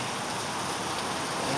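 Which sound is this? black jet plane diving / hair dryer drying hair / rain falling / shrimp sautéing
rain falling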